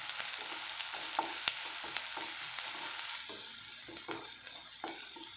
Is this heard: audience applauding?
no